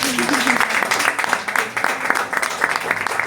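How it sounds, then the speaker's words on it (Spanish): A congregation claps loudly at a Spanish-language church anniversary service, a thick continuous clatter of hands mixed with voices talking or calling out over it. "Denle un fuerte aplauso a Dios"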